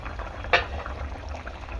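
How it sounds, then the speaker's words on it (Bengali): A pot of rohu fish curry bubbles steadily at a rolling boil, with one brief, sharper burst partway through. "টকবগিয়ে ফুটছে।"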